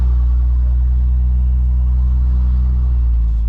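Busy Costco parking lot heard from inside a car, a loud, steady low engine and road rumble running throughout with no talk.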